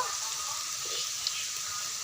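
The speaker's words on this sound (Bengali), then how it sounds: "একটা একটা করে উল্টে পাল্টে ভালো করে লাল লাল করে ভেজে নেব।" Coconut pitha frying in oil crackles in a faint, steady sizzle at close range, with no voices over it.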